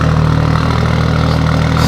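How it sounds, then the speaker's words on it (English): A 900HP BMW M4 idles close by, a loud, steady low rumble with constant droning tone and no voices. "This car sounds so good. I just listened to that idle."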